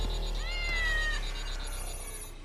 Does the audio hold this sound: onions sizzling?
no